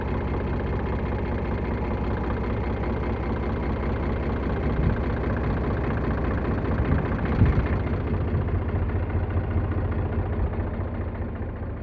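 A heavy diesel engine of an Eicher 485 tractor idles steadily and close by, a low continuous rumble with a slight surge near the end.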